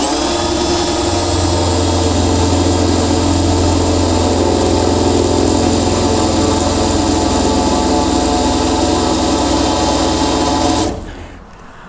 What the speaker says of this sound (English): what you're gonna be doing is you wanna drill